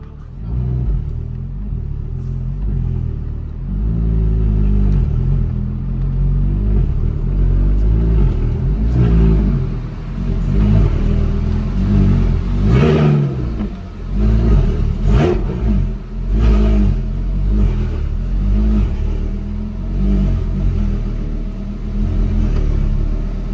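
A cheap supercar's engine rumbles low and steady as the car is maneuvered, with revs swelling and falling through the middle stretch and a few faint voices now and then.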